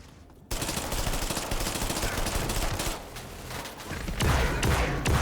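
Sustained rapid gunfire in the System Shock Remake, dense, loud and close with bursts continuing nearly the whole time, briefly easing before a heavier final volley.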